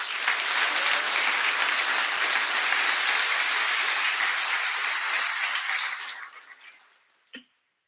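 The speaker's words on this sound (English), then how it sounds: "ask for a round of applause once again for that fantastic rendition of" Audience applause at a military change of command ceremony, following a rendition of the national anthem: a dense, steady burst of clapping that holds loud for about six seconds, then thins and fades out, ending with one short knock.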